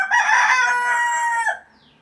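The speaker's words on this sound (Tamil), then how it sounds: "என்னோடய கோழி கத்திகிட்டே இருக்கான் பாருங்கள்" A pet rooster lets out a single loud, close crow lasting about a second and a half, trailing off into quiet.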